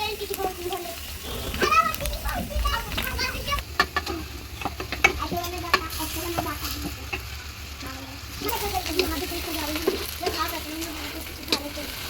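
Garlic, cumin, asafoetida and onion fry in oil in a kadhai, crackling and sizzling steadily with scraping stirs, while someone talks over the cooking.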